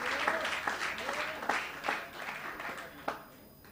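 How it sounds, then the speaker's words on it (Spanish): Congregation applauding during a Spanish-language church service in Bonaire, a steady, moderately distant wash of many hands clapping with scattered louder bursts and faint voices mixed in. "Un aplauso al Señor para ellos."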